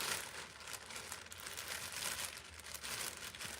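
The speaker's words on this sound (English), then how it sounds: "So I try to keep them in a plastic bag when I put them away." A plastic bag crinkles and rustles close by in continuous, irregular bursts of crisp crackling as it is handled, with no talk.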